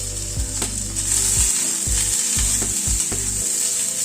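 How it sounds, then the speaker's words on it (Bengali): Cashews and raisins frying in ghee, a bright continuous sizzle overlaid by repeated low knocking and scraping thuds of a spoon working the pan, close and fairly loud. "এই 7-8টা মতো কাজু দিলাম, আর এখানে 10-12টা কিশমিশ দিয়ে দিলাম"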